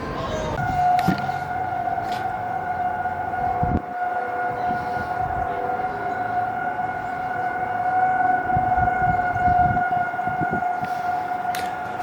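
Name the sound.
storm warning sirens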